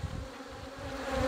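Honey bees buzz steadily throughout a hive inspection at a corner hive, a dense, continuous drone of many insects close by, with no talking.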